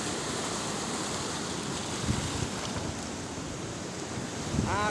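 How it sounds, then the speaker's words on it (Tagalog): Big ocean waves roll and crash continuously near the shore, a dense, steady wash of surf with rumbling surges, mixed with strong wind buffeting the microphone. "Laki ng alon no?"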